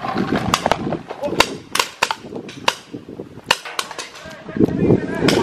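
Paintball guns fire in a rapid, irregular volley of sharp cracks and pops at a Pattaya paintball field, with close impacts and snaps near the camera amid outdoor bustle.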